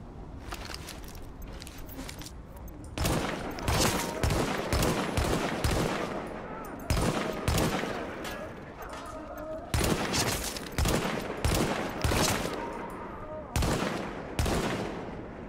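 Bursts of rapid gunfire crackle repeatedly in the video game The Division, loud volleys separated by short pauses, with some quieter background sounds between them.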